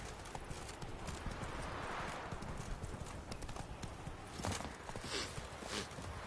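Steady clip-clop of the horse Roach's hooves trotting in a video game, a continuous, fairly quiet rhythm over a dense ambient game soundscape, with a faint brief whinny mixed in.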